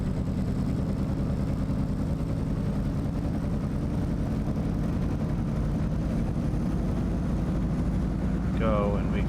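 Carenado Cessna 195 radial engine in Microsoft Flight Simulator idling and throttling up for taxi, a steady loud low drone running throughout with a brief higher whine near the end; someone talks over it.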